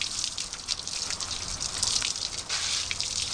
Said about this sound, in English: rinse the hull of your boat down, just like this, with hot water